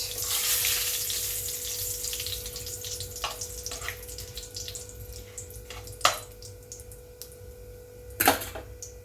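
Whole garam masala spices (cardamom, cinnamon, cloves, nutmeg, mace, black pepper) sizzling in hot oil, a soft steady fizz with a few sharper spits and pops.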